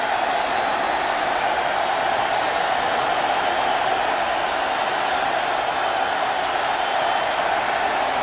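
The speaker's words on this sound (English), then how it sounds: "Crowd gets loud." Stadium crowd roaring at a Raiders at Seahawks preseason football game: a dense, even wall of cheering noise, loud and sustained throughout.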